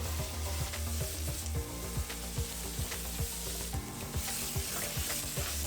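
Lentil and sausage soup stirred in a pot, a steady sizzle running under repeated soft scraping strokes from the spoon, close and continuous with no voices.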